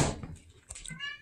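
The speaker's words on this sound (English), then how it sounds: "He goes, meow, meow." A cat meows a few times indoors during a quiet evening, short plaintive calls that are fairly close and moderately loud, with brief knocks and a voice heard around them.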